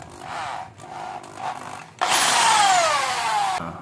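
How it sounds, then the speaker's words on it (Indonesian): A power drill spins a wooden stick sharpened to a point at both ends, shaping it into a precise dowel. Rubbing, scraping wood sounds come first in short bursts, then a loud, steady high whirr with a falling tone runs for over a second. "Ya, setelah itu kita pasang di bor."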